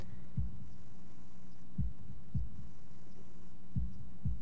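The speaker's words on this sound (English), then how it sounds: "holding my breath in an attempt to hear my heartbeat" Heartbeat sound effect from the visual novel game Katawa Shoujo: slow, deep low thumps, roughly five beats spaced unevenly over a steady low hum, with no voices.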